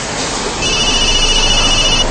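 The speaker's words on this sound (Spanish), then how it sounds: "Creo que tu celular está sonando." A mobile phone rings in a police thriller drama scene, a steady high electronic ring tone rising above a loud, dense background wash and holding for over a second, no speech over it.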